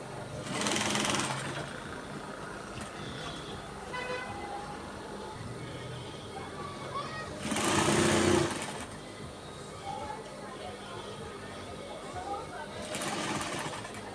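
A sewing machine stitches out a notched dress collar, its steady motor whir running through the clip with louder bursts near the start, middle and end, while a person talks over it.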